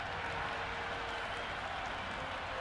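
Crowd applause in Cricket 26 during an India vs New Zealand one-day match, a steady, dense wash of clapping and crowd noise, fairly faint and distant, with slight speech underneath.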